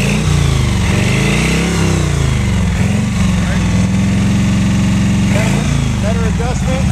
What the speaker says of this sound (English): We're driving on wood gas.